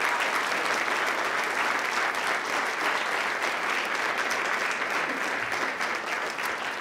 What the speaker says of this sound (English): Sponsors, please stand so we can give you a round of applause